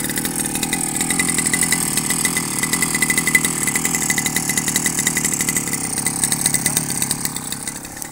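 A petrol grass-cutting machine mows dense grass in a forest at Cikawung, Indramayu, cut as livestock fodder. A steady mid-pitched engine drone runs throughout with mechanical rattling, close and continuous, with no talking.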